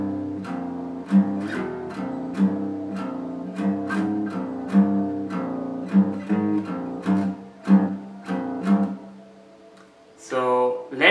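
Slow, plucked electric guitar notes play a riff from a song alternating open ringing strings with muted hits, each note clearly attacked and decaying in a steady rhythm, followed by a brief scraping slide at the end.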